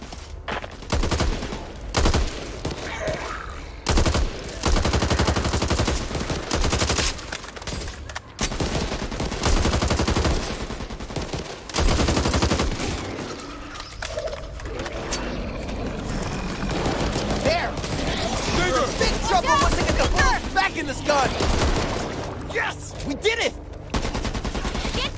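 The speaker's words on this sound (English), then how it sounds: "Firecrackers here." Rapid, crackling bursts of exploding firecrackers in Back 4 Blood, heavy and sustained, with intermittent voices talking over the din.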